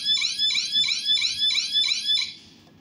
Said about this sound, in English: And now the Hooter has stopped ringing.